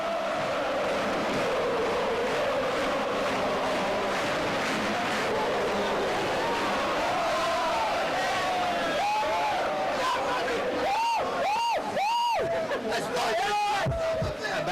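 Tottenham Hotspur fans cheering at Wembley after the Worthington Cup 1999 final, a loud, sustained crowd roar with chanting and shouted voices that swell in the closing seconds.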